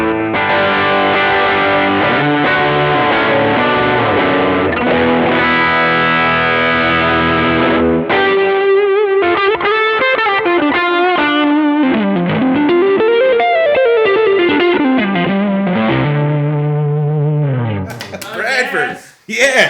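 Electric guitar driven through a King of Tone overdrive pedal with a Marshall 1974x clone tone, playing sustained crunchy chords and then single-note bends and runs. It is loud and continuous, with a burst of noise at the very end.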